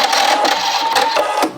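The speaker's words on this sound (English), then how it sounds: "This is the automatic thread snip." A Pfaff Creative 3.0 sewing machine runs its automatic thread snip, a brief close mechanical whirring with a few rapid clicks and taps as the cutter cycles and the presser foot lifts.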